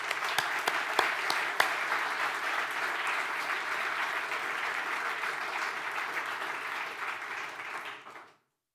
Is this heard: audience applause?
yes